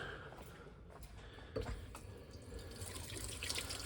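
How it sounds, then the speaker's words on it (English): A tap runs at a kitchen sink while hands are washed, a quiet, steady splashing wash of water with small surges, fairly faint and without any talking. "I'm going to have to wash my hands"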